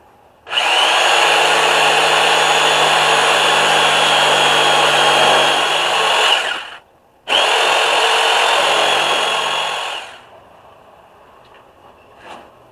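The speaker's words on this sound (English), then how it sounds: "I'm using now what is called a saber saw." A saber saw cuts through wood for a shelf being added to a sawhorse, its loud, steady buzzing motor running close by for about six seconds. After a short break it roars again, then winds down and stops.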